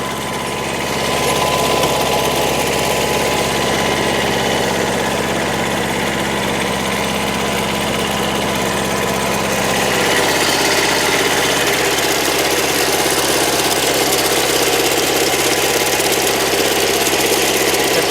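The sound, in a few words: tractor engine running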